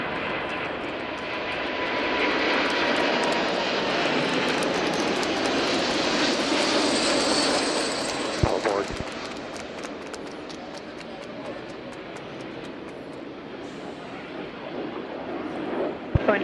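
Roaring jet engines of a Boeing 747-8F freighter on its first-flight takeoff, a broad loud rumble heard from a distance that slowly fades as the aircraft climbs away, with faint voices toward the end.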